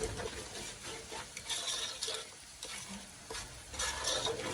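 A mixture frying in a pan and being stirred, with continuous sizzling and recurring scraping strokes of the spoon against the pan, close and fairly loud, without talk.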